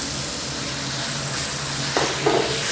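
Thinly sliced pork stir-frying in a pan for Thai soy sauce fried rice, a steady loud sizzle with brief stirring scrapes near the end and no talking.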